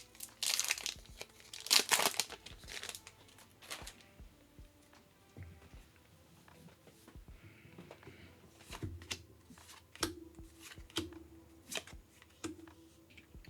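Foil trading card booster packs of Doom of Dimensions are torn and crinkled open nearby, loud rustling bursts at the start giving way to quieter handling, shuffling cards and scattered clicks.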